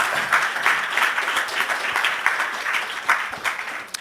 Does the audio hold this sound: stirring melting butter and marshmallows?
no